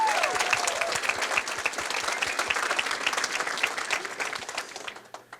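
Sustained applause from an audience at an Honor Flight Rochester homecoming event, dense steady clapping that carries on loudly before tapering off near the end.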